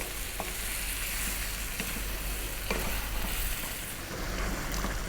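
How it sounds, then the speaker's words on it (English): Tomatoes for a lamb potato curry fry in a pan with a steady broadband sizzle, broken by a few short scraping stirs spaced a second or two apart, close and continuous with no talking. "Give it a stir every now and then."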